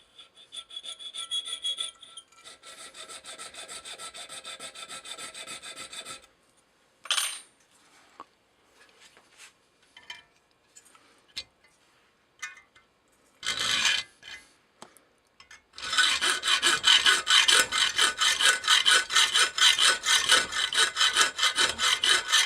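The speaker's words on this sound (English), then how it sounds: "I'm just going to take a hacksaw, cut this out, and kind of get some of the excess material off." A hacksaw cuts brass stock for a beam engine valve linkage, with rapid, rhythmic rasping strokes in long runs, broken by pauses with light scrapes and knocks before loud, steady sawing resumes.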